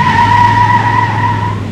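A 1970 Buick Skylark spinning its rear tires as it pulls away on a light touch of throttle, giving a loud, steady tire squeal close by over the engine's rumble.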